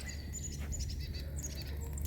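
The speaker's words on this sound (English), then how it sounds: "Don't go in there, little birds." Small birds chirp and tweet near an outdoor fire at a barndominium build site, a steady scatter of light calls over a low crackling rumble.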